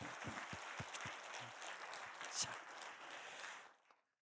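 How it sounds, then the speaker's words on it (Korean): Church congregation applauding pastors during a sermon, a soft steady clatter of many hands heard from a distance, with a few louder claps up front, before it fades out. "우리 한번 목사님들에게 박수 한번 축복할까요?"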